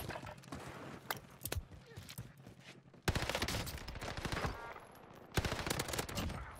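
Rapid bursts of Owen gun fire in a first-person shooter video game, loud volleys with short pauses and a heavier stretch in the second half, with light background game noise.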